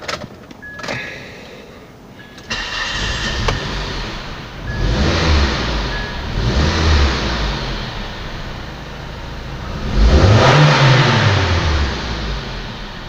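A Nissan Altima engine, its throttle body just cleaned, cranks and starts, then revs in several rising and falling swells, the last one loudest, before settling toward a steady idle, heard close by.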